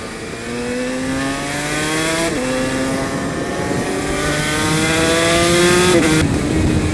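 A Yamaha TZ250 racing motorcycle engine screams loud and close, with rising revs and sharp drops at gear changes, and it holds a high, raspy pitch throughout without any talk.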